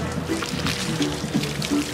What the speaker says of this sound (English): Put some water on and wash it.